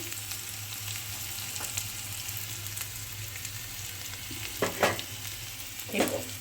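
Raw prawns sizzle in a frying pan after a light salting, a steady hiss under a low hum, broken near the end by two louder scraping bursts as they are stirred.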